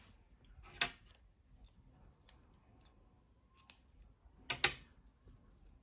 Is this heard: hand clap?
no